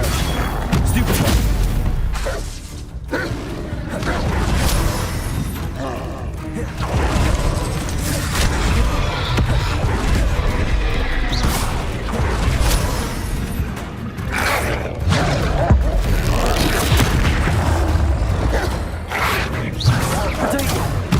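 Spells such as Incendio and Confringo are cast in Hogwarts Legacy combat. Dense, loud game audio carries continuous fiery blasts, impacts and crashing effects, with a voice faintly present in the mix.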